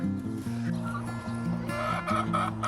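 Guinea fowl being moved to a pasture poultry pen call close by, with overlapping clucks and harsh, repeated cries from several birds.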